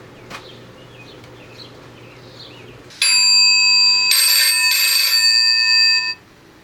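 A telephone ringtone plays loudly for about three seconds, a steady electronic ring with sustained bright tones, following a quieter stretch of faint background sound.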